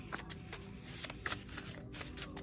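A deck of tarot cards is shuffled close by, a soft continuous riffling patter with a few sharper flicks, quiet and without talk.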